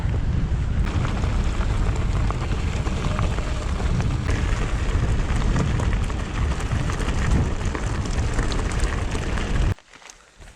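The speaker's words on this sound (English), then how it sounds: "Very windy though." Strong wind buffets the microphone during a mountain bike ride along a forest trail, a loud, continuous rushing roar with gusty surges that cuts off abruptly near the end.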